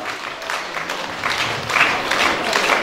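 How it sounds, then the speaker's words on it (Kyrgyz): An audience claps in a dense, continuous patter at a long-hair contest prize announcement, with no talking over it and the volume rising slightly toward the end. "Кол чаап койсоңуз"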